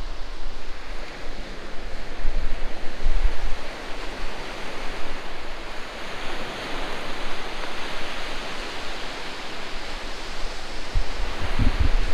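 Sea waves wash over a shingle beach in Wales in a steady, broad roar that lasts throughout, mixed with wind buffeting the microphone.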